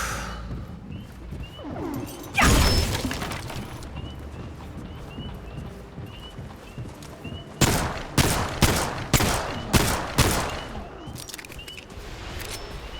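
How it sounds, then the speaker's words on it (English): Gunfire in the Remnant 2 video game: a loud, dense burst of shots, then a quieter stretch, then a rapid string of six or seven sharp, heavy shots in close succession. "I guess shooting those clearly just regular animals was pointless."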